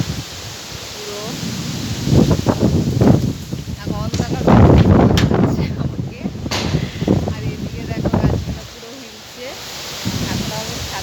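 Strong gusty wind blowing across an open rooftop before rain under a heavily clouded sky, roaring in loud surges that rise and fall, with a person talking over it.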